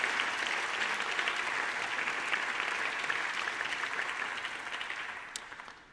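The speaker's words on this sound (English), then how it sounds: "if we could have a round of applause for my staff" An audience applauds the staff at the ICCF opening remarks, a steady dense wash of clapping from a crowd that holds for several seconds before fading out at the end.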